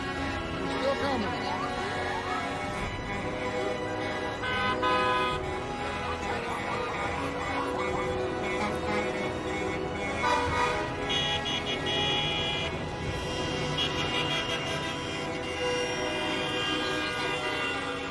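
Busy roadside din of a Freedom Convoy of cars passing with horns tooting and honking repeatedly, dense and continuous, with people talking over it.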